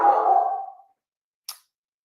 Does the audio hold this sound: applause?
no